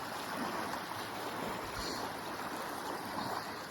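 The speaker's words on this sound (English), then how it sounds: "Look at all those waves." Wind-driven waves wash continuously on Crowduck Lake, a dense, even roar of surf and churning water with a steady level and no voices.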